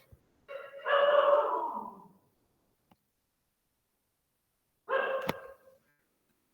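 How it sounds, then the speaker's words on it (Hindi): Stray neighbourhood dogs let out two separate barking bursts, a longer one followed after a quiet pause by a shorter one, moderately loud with no talk. "दूसरे मोहल्ले के कुत्ते आ गए हैं यार"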